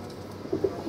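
Border-breed pigeons cooing, two soft low coos close by against a quiet background.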